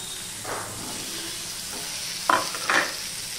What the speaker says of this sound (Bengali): এবার চাল কুমড়োটা আমি ভেজে নেব।